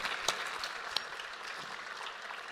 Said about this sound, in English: I love how that applause is getting more and more warm and more energetic as the afternoon progresses